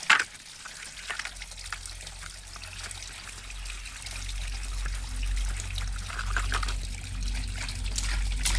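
Steady tap water running, trickling and splashing throughout while dishes are washed, a continuous low rush with occasional brighter splashes, fairly close.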